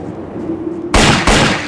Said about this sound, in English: well this number 4 gun works. Machine pistol.